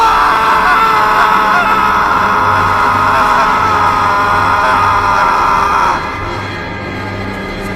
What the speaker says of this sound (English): they suddenly hear a blood-curdling, horrifying scream.